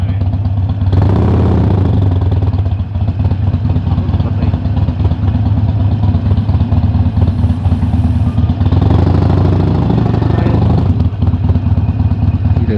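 Motorcycle engine idling up close with a steady low throb and chugging rhythm, loud and continuous for the whole stretch, a couple of brief swells as the engine picks up slightly, a voice faintly in the background.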